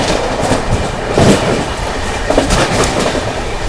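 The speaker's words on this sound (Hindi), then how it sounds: "अपनी महाराष्ट्र संपर्क क्रांति एक्सप्रेस ओवरटेक करने जा रही है भोपाल जोधपुर" Onboard the Maharashtra Sampark Kranti Express as it overtakes the Bhopal Jodhpur Express: a steady loud roar of rolling carriages with clickety-clack wheel beats and a couple of brief louder bursts, no voices.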